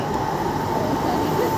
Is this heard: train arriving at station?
yes